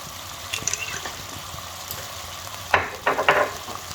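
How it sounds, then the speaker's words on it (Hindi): Mixed vegetables for seafood chop suey fry in a pan with a little water added, giving a soft sizzle and stirring clatter that swell into louder sizzling bursts toward the end. "मैंने इसमें थोड़ा सा पानी डाला है और इनको अच्छी तरह इस पानी में फ्राई करूँगी।"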